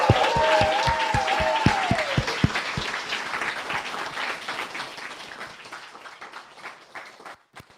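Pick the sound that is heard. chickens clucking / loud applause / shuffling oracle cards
loud applause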